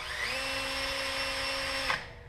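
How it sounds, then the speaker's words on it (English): Power sanding on car headlight lenses while Dodge Dart halo lights are installed, a steady high-pitched whine that keeps going for about two seconds, then winds down and stops, loud and near. "And you'll hear me sanding in the background."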